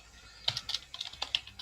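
A computer keyboard clatters in a quick burst of about a dozen light, crisp keystrokes while a folder is renamed, fairly close and with no talking.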